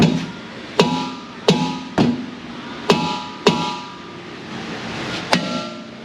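Six sharp metallic hammer blows strike car brake parts at irregular intervals, each with a brief ringing clang, loud and close.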